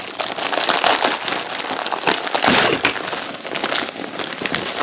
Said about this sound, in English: So we're going to be unboxing the package and doing a review of it. So I'll open the package.